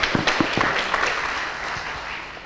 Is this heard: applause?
yes